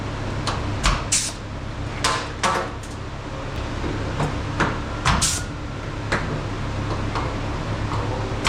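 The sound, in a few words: door of a limousine opening and closing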